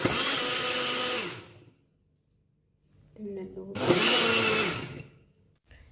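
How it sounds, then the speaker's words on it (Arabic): A blender grinding cake ingredients roars loudly in two bursts, the first about one and a half seconds long, the second longer, separated by a brief silence. "كناخد كاس ديال الخلاط وغادي ندوزو فيه هاد المكونات"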